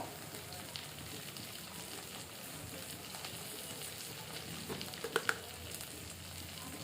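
Three green chilies fry in a pan with a soft, steady sizzle and crackle at low level, a couple of brief clinks near the end; no talk.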